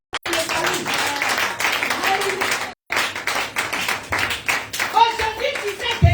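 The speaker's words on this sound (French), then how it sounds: "Acclame le Seigneur pour le salut." A church congregation claps in praise during a worship teaching service, loud busy clapping with a brief gap near the middle, mixed with voices and some cheering.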